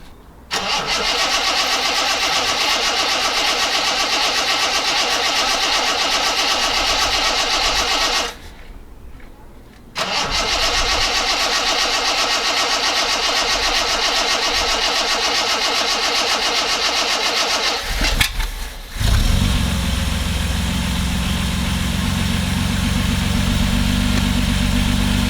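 A Reliant Scimitar engine cranks and catches, runs loud and steady, cuts out briefly, then restarts and settles into a deep, even idle close by.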